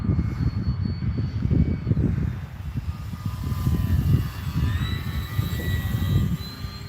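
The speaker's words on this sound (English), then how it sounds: "This is a really good flying airplane." Commander MPD radio-controlled airplane flying overhead on a windy day, a thin high engine whine rising and shifting in pitch as it passes, heard over steady wind rumble and buffeting.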